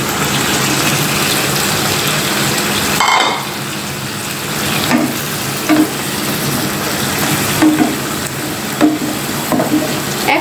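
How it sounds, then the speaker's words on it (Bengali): Vegetables stir-frying in oily spice paste for a potato and pangas fish curry, a steady loud sizzle with occasional scraping and clinks of a spatula against the pan, no talking. "তেল উপরে উঠে আসলে এর মধ্যে আমি ধুয়ে রাখা সবজিগুলো দিয়ে দিচ্ছি।"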